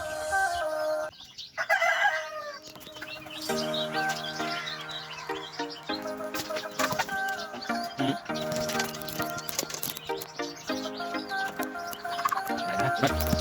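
Free-range hens cluck and a rooster crows loudly, with layered bird calls overlapping continuously in a busy, close farmyard chorus.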